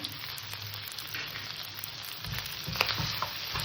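Mutton frying in a pan for pulao, a steady, fairly quiet sizzle with a few stirring knocks toward the end, near and without speech.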